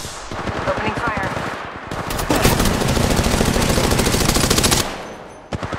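Rapid video game gunfire, loud and close: sustained bursts of automatic shots rattle in fast succession, intensifying midway before cutting off near the end.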